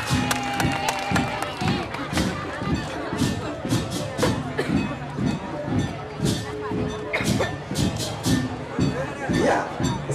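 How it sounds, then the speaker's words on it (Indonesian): A crowd at a Balinese tek-tekan performance by Banjar Pahit in Kediri cheers and claps loudly, a dense lively roar of voices and clatter over a steady rhythmic pulse of percussion, with people shouting throughout. "Kita berikan tepuk tangan ya semangatnya untuk persembahan dari Banyar Pahit hari ini."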